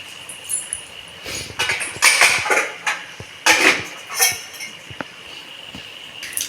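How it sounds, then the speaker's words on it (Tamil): Mustard seeds and fenugreek crackle in hot oil while tempering for moor kuzhambu, with irregular sharp pops and sizzling bursts up close and no voices. "கடுகு வெந்தயம் எல்லாமே வந்து பொரிஞ்சு வந்துடுது."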